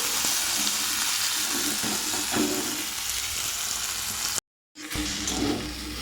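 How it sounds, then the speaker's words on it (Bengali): Notey greens frying in a pan with potato, bitter gourd, chickpeas, jackfruit seeds and dried red chili tempering, giving a continuous close sizzle broken by a brief silent gap. "এই নোটের শাক দিয়ে এটা একটু চচ্চড়ি বসাবো।"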